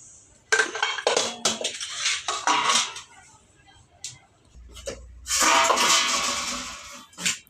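Mutton is washed in a metal pot, with bursts of close clattering, clinking and sloshing handling noise separated by brief quiet gaps.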